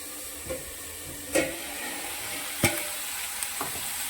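A cauliflower and potato curry tempered with five-spice cooks in a wok: a steady soft sizzle with a few sharp clinks and scrapes of a spatula at irregular intervals, heard up close.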